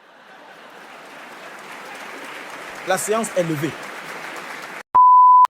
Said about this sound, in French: La Cour vous condamne donc à une tonne d'applaudissements.